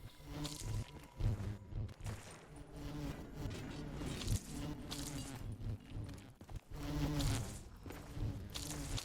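Bees buzzing in the Zenith video game map as they drop honey, a close droning hum that swells and dips in waves, broken by brief soft clicks.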